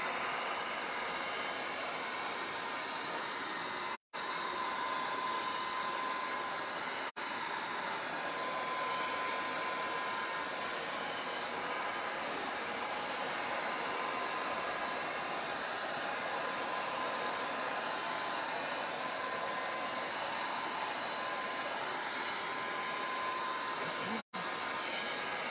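A hair dryer blows steadily on wet paint on a craft piece for a fall market display. The airflow makes a constant, even whoosh that lasts the whole time, broken only by a few momentary dropouts, with no talking.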